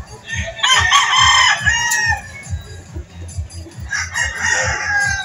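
A stag rooster crows repeatedly at a chicken market in Lipa, Batangas, two long loud crows separated by a pause, over a rhythmic low thumping and faint background market noise.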